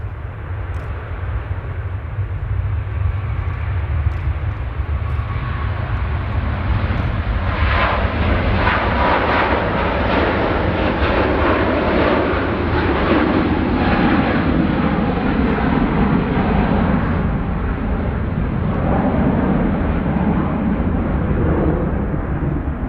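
An airplane taxiing at Manchester Airport gives a steady, broad engine rumble and roar that holds throughout at moderate distance, swelling slightly in the middle, with no talk.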